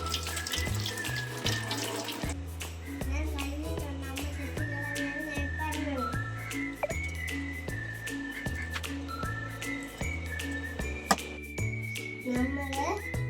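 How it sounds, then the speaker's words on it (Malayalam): Green mangoes washed under a running kitchen tap, a steady stream of water splashing into a sink with shifting tinkling tones as the fruit is rubbed, close and continuous. "നമുക്ക് കഴുകി വൃത്തിയാക്കി എടുക്കാം."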